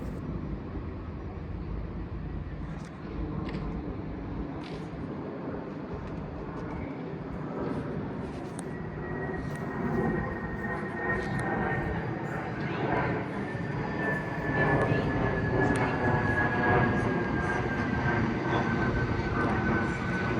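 A Class 377 electric train at Clapham Junction, a broad rumbling roar that swells and holds over twenty seconds, with a rising whine and scattered clanks, heard at moderate distance.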